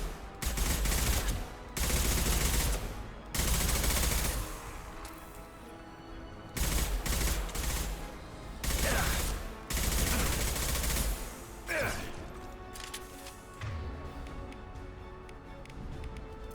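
Heavy gunfire in the Mass Effect 2 shooter game, played on Insanity difficulty: loud, close bursts of roughly a second each, repeated about seven times with short gaps, no talk over them.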